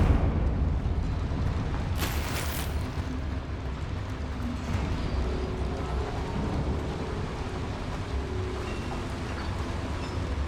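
Confringo spell explosion in the Hogwarts Legacy video game, fired inside a mine, a brief bright burst followed by a steady rumbling wash of game noise that holds at moderate loudness.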